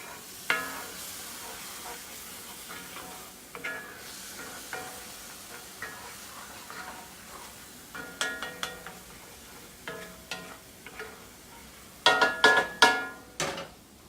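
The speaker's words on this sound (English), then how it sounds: "let's stir this up some" A seasoned mushroom mixture is stirred in a frying pan, with soft sizzling throughout and scattered scraping clicks of the utensil that grow louder and busier toward the end.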